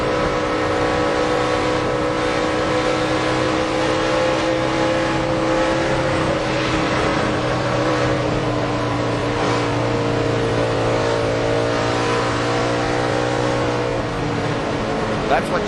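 A race truck engine in a 2007 Ford 200 race revs up and down repeatedly as the driver works the throttle, a loud, continuous mechanical howl with shifting pitch.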